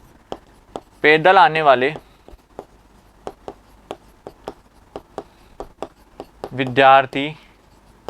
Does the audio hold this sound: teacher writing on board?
yes